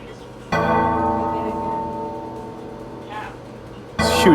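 Sustained bell tones from a Soundfont Pro synth played in GarageBand on iPhone, a bright harmonic chord ringing from just after the start and slowly fading, with a fresh loud bell strike near the end.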